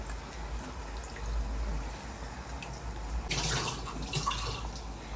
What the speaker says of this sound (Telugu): చింతపండు పులుసు వేస్తున్నాను